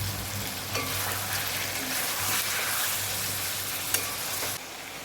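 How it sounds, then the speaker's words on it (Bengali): Spiced water poured into a pan of frying mutton kosha masala, giving a steady loud hiss and sizzle with faint stirring scrapes, and no talk. "এবার আমি বাটিতে যে মশলার জলটা ছিল সেই জলটা আমি দিয়ে দেবো এতে।"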